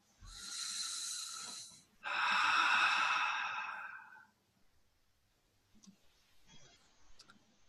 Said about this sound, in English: All right, everybody just breathe.